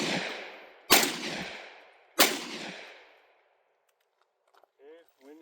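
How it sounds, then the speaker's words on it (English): A Beretta 1301 semi-automatic shotgun fires two loud, sharp blasts about a second apart, each ringing out in a long decaying echo, followed by a brief silence and a few faint mechanical clicks. "So now when I shoot, it should fire once and then I can shoot all three."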